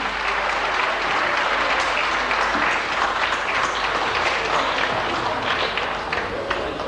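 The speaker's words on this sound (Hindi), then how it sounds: "जोरदार तालियां" Sustained audience applause at a Hyderabad music concert honoring a singer, a dense, steady wash of many hands clapping at close range, loud and continuous throughout with no speech over it.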